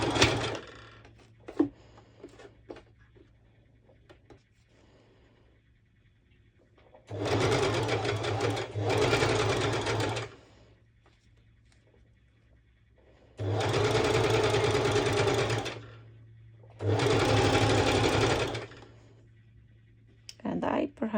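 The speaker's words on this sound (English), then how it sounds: "So I'm going to do the zigzag stitch already without the fabric." A sewing machine runs a zigzag stitch with no fabric under the needle, in three loud bursts of about three seconds each with short pauses between them. A person talks quietly in the gaps.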